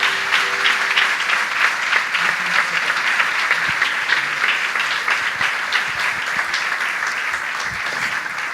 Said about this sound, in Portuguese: Quero te convidar a dar um aplauso bem forte ao Senhor Jesus.